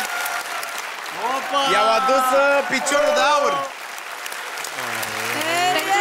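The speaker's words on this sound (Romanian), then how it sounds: "Ea chiar are nevoie de aplauze." Steady applause from an audience, with a voice speaking over the clapping throughout.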